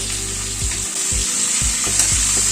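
Papaya and carrot pieces with salt and turmeric are stirred in a pan over a medium gas flame with garlic in the oil. A steady sizzle runs under a low hum, with several soft spatula pushes, close and continuous.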